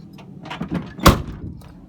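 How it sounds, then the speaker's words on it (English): A vehicle door shuts with a solid thunk near the middle, set among softer handling clunks and rustles close by, with no talking. "Doors close."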